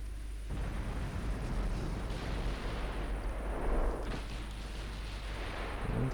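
Naval gunfire from warships firing armour-piercing shells in the Ultimate Admiral Dreadnoughts game, heard as a dense, continuous rumble of distant booming salvos with no clear gaps between shots.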